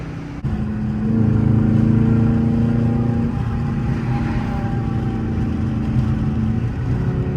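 Loud custom exhaust on a Dodge Charger RT driving through a tunnel, a deep steady droning rumble with a brief rise in revs, close and continuous with no talk.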